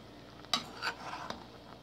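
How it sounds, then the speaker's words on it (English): A spoon stirring black-eyed peas and dumplings in a pot, a few faint scrapes and soft metallic clinks spaced out in an otherwise quiet kitchen. "Okay, I'm going to go ahead and stir these."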